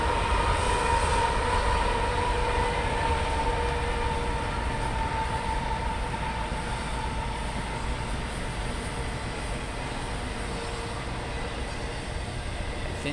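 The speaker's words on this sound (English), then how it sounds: "And yet another train behind us, going the other way." A train rumbles steadily past behind a baseball field during an 8th grade game, a continuous low roar with a faint high whine, fairly loud and sustained throughout without talk.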